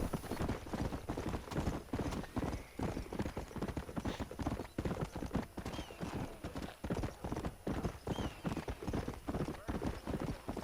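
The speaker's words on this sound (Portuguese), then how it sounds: "É o cavalo selvagem." Wild horse hooves in the video game Red Dead Redemption, a fast, steady clip-clop of galloping that runs throughout, with a couple of brief whinnies and someone talking over it.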